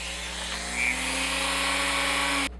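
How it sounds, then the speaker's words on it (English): A Dremel rotary tool with a sanding drum whines steadily at a constant pitch, grinding against soft foam, then cuts off abruptly near the end. "I want to go back in with a Dremel and just on my sanding drum and clean these up"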